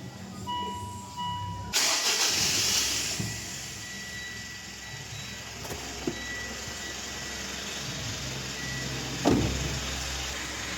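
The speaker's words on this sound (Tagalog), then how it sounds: "pwede ko na ngayon pa-start itong makina." A Mitsubishi Strada diesel engine cranks and catches with a sudden loud onset, then settles into a steady close, broadband idle with hiss, with a brief louder surge near the end.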